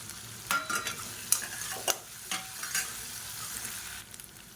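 Finely chopped ginger and garlic are stirred in a hot pan as they fry, giving soft sizzling under scraping spoon strokes at irregular intervals. The sound is close and moderate in level, with no speech.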